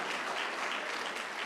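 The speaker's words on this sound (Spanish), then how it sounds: "Denle un aplauso al Señor, hermano." A church congregation claps together during a Spanish-language Sabbath study service, a dense, steady wash of applause at even loudness throughout, with no voices standing out.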